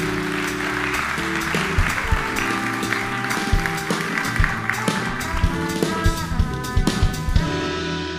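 An audience at a talk on internet freedom and net neutrality claps for a speaker, with steady applause and sharp taps rising over background music.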